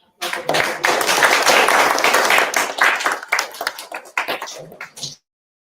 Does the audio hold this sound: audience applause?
yes